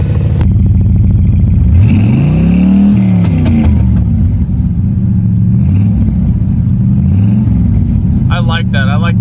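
A C4 Corvette engine with open exhaust, fitted with a new idle setup, revs loudly in sharp bursts over a steady rumbling idle, close and dominant throughout.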